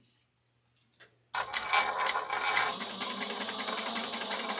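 A sewing machine top stitching fabric starts up after a few soft clicks, then runs steadily with a fast rhythmic mechanical chatter, close and fairly loud.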